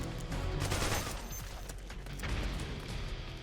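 Rifle gunfire in Metal Gear Solid 4, sustained and loud, with dense overlapping shots forming a continuous rattling fusillade throughout.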